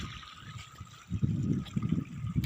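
Irrigation water trickles and gurgles through a freshly sown cumin field, soft at first and then a fuller, bubbling flow close by.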